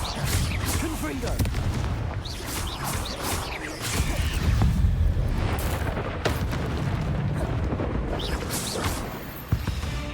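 Booming blast spell explosions from the Hogwarts Legacy video game, several heavy bursts over a dense rumbling game soundscape, with a voice talking through much of it.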